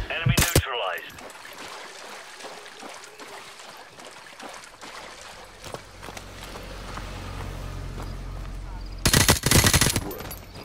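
Gunfire in Call of Duty 4: Modern Warfare Remastered, loud close bursts at the start and again near the end, with ambient game sound and military voice chatter between.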